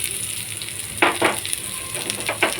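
Chopped onion hits hot, well-browned tempering oil for a small-fish curry and sets off a steady, crackling sizzle, with a few louder bursts of spitting as it is stirred in.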